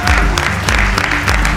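A studio audience claps on a televised quiz show, loud and close, with music playing underneath.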